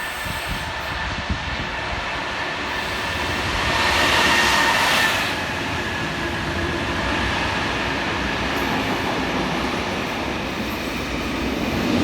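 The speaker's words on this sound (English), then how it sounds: "Then we see the 45 class diesel gliding through." A 45 class diesel locomotive hauling a train past in New South Wales, rumbling steadily with rolling wheel noise that swells as it draws nearest and then settles into a continuous passing roar, with no voices.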